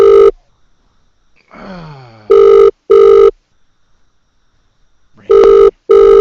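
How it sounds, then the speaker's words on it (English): A telephone rings in four loud, evenly spaced electronic bursts with long silent gaps, one gap filled by a faint groaning sigh, heard during a radio show call. "Ringing."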